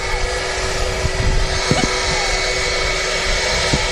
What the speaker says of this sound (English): BA A320 arriving here on 23 right, just taxiing off ahead of us.